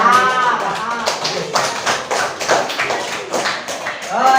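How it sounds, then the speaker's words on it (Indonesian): Eighth-grade students in a classroom break into a round of clapping, a dense, steady patter of hand claps lasting several seconds, with a voice briefly audible at the start and end. "Tepuk tangan buat kalian semua."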